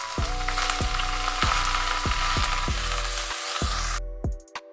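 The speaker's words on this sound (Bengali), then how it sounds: "পেঁয়াজটাকে হালকা করে লাল করে নিচ্ছি, একটু ভাজা ভাজা করে নিব" Onions frying in a pan with cardamom, bay leaf and cinnamon, a constant close hiss of sizzling oil punctuated by about eight rhythmic knocks of a spatula against the pan.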